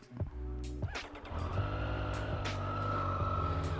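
A Triumph Street Triple R motorcycle engine turns over from cold and catches, then settles into a steady, rumbling idle with a few revs, close by and fairly loud.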